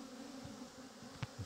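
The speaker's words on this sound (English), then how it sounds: "There will be bees inside, and there will be some fanning going on." Honeybees buzz and fan at the entrance of a horizontal hive with an Eco-Floor, a faint, steady low drone with a couple of soft knocks near the end.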